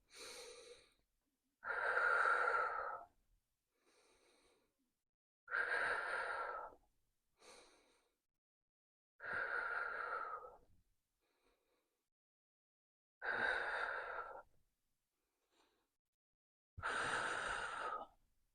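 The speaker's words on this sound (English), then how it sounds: "My legs are going to come up as I exhale. So I'm going to inhale." Slow, deliberate breaths during a diastasis recti core exercise, with about six long audible exhales and softer inhales between them, close and clear against silence.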